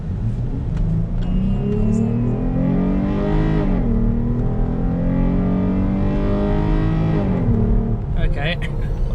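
A Jeep Grand Cherokee fitted with an Apexi open air intake revs hard in two rising pulls, its engine note climbing into a raspy, gurgling grumble before dropping back, loud and close throughout.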